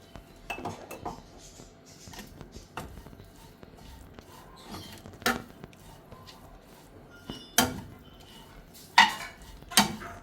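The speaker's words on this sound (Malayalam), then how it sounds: "ഇതൊന്ന് നന്നായി ഇളക്കി ചേർത്ത് മൂടി വെച്ച് കൊടുത്താൽ മതി" Chicken filling for chicken rolls being stirred in a pan, with a spoon or spatula scraping and clinking against the metal in irregular knocks and a few louder clanks, close up with no talking.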